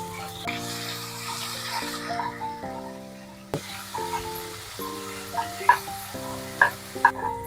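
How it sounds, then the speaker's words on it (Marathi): Spices go into hot oil in a kadhai and fry with a steady sizzle, stirred now and then with a few sharp scraping clinks, under a faint steady background tone. "आता आपण मसाले टाकून घेऊया।"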